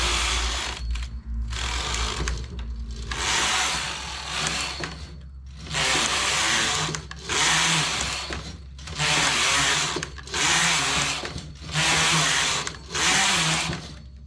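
A knitting machine carriage whirs back and forth across the rows of a knitted cap, about seven even mechanical passes separated by short pauses, close up with a low hum under it.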